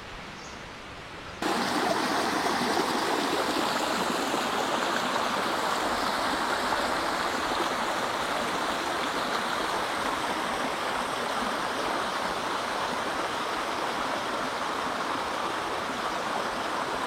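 A small stream runs through thick forest on a trek to Yana Cave, making a loud, steady rush of flowing water that starts abruptly and then continues unbroken, with no voices over it.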